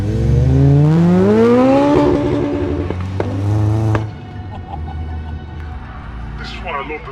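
A Seat Leon Cupra R engine revs up hard with a rising whine, then drops off as the car passes; a voice talks over the loud engine near the start.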